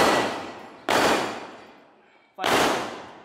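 Three sharp, loud blasts from a shotgun fired at a helmet during a firearms test, each report followed by a long decaying echo, spaced unevenly with a quiet pause between the second and third.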